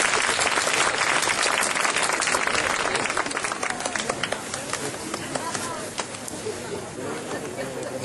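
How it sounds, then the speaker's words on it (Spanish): Audience at a myth-themed evening in Verdicio, Asturias, breaks into dense, sustained applause with a mix of voices, loud at first and then thinning toward the end. "primero un aplauso para Natalia y Alberto"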